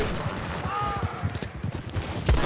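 Red Dead Redemption gunshots pop in a quick scattered series among game ambience, with a louder shot near the end.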